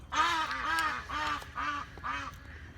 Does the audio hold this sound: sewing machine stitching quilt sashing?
no